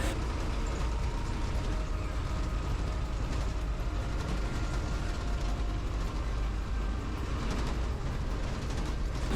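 Steady low engine rumble and rattling cabin noise from inside a bus travelling a village route through Moolagangal in Attappadi, continuous and loud throughout with faint background voices.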